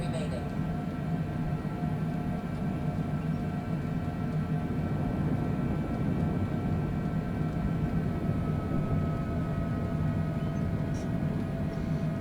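Airliner rolling onto the runway before a takeoff in wild, stormy weather, a steady loud engine drone and rumble with tonal hum running throughout, low voices talking faintly underneath.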